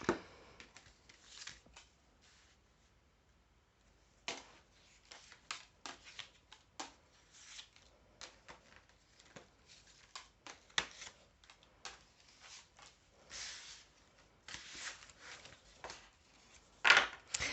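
Tarot cards being shuffled for a 13-card draw, quiet riffling bursts and soft slaps close by, coming in irregular clusters with short pauses between them.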